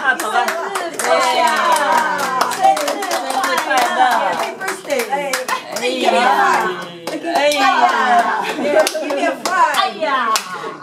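Family members clap their hands at a 98th birthday celebration, a run of sharp, close claps mixed with lively voices, including children chattering over and between the claps.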